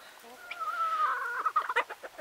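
A sale barn hen clucks close by, a drawn-out rising call followed by a few quick clucks as she approaches.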